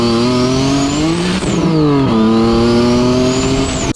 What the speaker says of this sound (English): They don't have a 350Z with a rear mount turbocharged making 600 wheel horsepower.